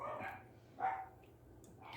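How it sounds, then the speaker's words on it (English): Pet dogs bark in the background of a home kitchen where Italian food is being cooked, with three short, faint bursts spread across a couple of seconds over low room hum. "Can you hear my doggies?"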